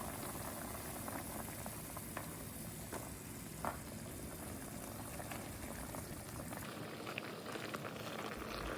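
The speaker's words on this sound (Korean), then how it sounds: "전분물이 뭉치지 않게 잘 저어줄게요" Seafood soup with starch slurry simmering in a pot, a continuous dense bubbling boil with faint occasional clinks of stirring, steady throughout with no voices.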